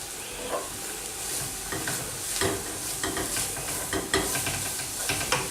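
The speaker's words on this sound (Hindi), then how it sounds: "सिर्फ 2 से 3 मिनट के लिए बस इसको लाइट सा कह लें कि फ्राई करना है।" A finely grated ingredient fries lightly in a pot for Afghani qabali palao, giving a steady soft sizzle with a broad hiss and scattered scraping stir strokes, fairly close and moderately quiet, with no talking.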